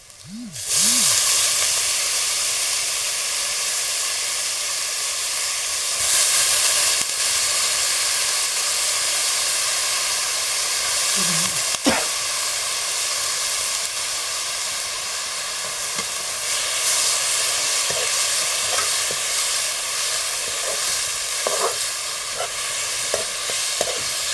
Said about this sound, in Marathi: आता मी त्यामध्ये टाकणार आहे भिजत पाण्यात ठेवलेले केळफूल चिरून